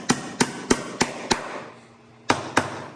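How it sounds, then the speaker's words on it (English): Half-inch wooden dowels are pounded into a screwed-down guitar body board, giving sharp, close hammer strikes: five evenly spaced blows, a short pause, then two more. "I get these half-inch dowels and I like to kind of pound them in first while the board is secured in with the screws"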